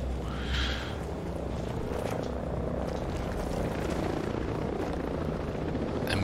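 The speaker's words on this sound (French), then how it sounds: "Oh putain, deux hélicoptères." Two helicopters, a small one and a large combat one, thrum steadily and loudly overhead in Ghost Recon with a constant rotor drone and no break.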